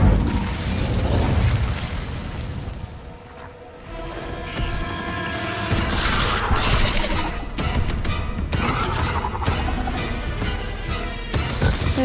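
Incendio fire spell cast in the Hogwarts Legacy video game inside an Acromantula cave: a crashing burst followed by roaring, crackling blasts and mechanical clatter, loud and dense throughout.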